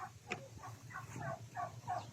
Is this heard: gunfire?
no